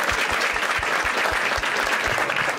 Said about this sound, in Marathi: एकदा टाळ्या वाजवा त्यासाठी